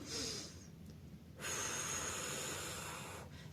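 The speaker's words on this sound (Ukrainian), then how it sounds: "робимо холодний, довгий видих ротом" Breath is drawn in sharply, then a long, cold breath is blown out through the mouth as a steady airy rush lasting almost two seconds, close and quiet, during a stage speech breathing exercise.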